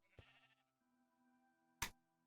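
Sheep bleating in the Minecraft video game, a short bleat near the start and a second louder one toward the end, with a quiet steady game tone between.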